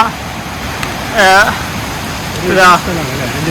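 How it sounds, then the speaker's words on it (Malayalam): Steady rain hisses throughout, a broad even wash of falling water, with two brief voices rising above it. "മഴയുണ്ട്"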